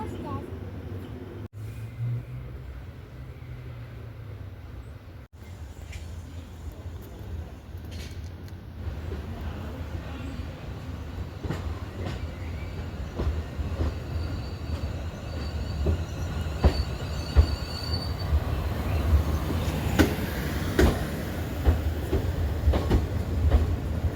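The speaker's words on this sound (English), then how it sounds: "Train just arrived." A train pulling into St Albans Abbey station: a low rumble builds gradually over the stretch, with rhythmic wheel clatter and faint squeals growing louder as it approaches and slows, while a voice talks intermittently over it.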